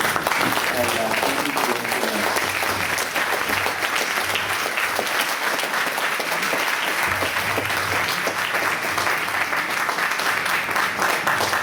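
An audience at a forum gives dense, continuous applause for the whole stretch, loud and steady. Faint talking sits underneath it.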